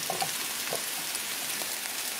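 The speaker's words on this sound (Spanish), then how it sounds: "Ya estoy calentando las tortillas." Tortillas warming on a hot pan give off a soft, steady crackling sizzle that stays faint and even throughout, with no voices.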